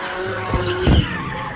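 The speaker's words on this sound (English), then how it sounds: "how awesome am I gonna look standing in front of these cars doing donuts while I stare ahead" Car tires skid and squeal as cars do donuts, a loud close screech with a rising and falling tone over engine rumble, peaking in a harsh burst near the middle of the brief clip.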